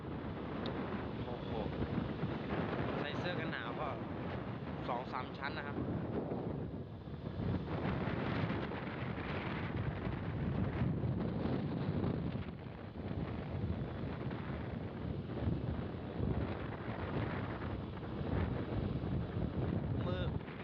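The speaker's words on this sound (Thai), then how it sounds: "ต้อนรับลมหนาวครับผม" Cold winter wind gusts hard across the microphone in a rushing, buffeting roar that goes on throughout, with a voice speaking faintly beneath it at times.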